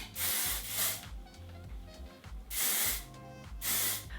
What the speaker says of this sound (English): I'm gonna go back in with the Argan Oil of Morocco hairspray, and I'm going to spritz the top layer.